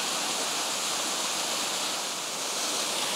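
Benton Falls waterfall pours in a steady, dense broadband rush, loud and unbroken throughout with no voices or other sounds over it.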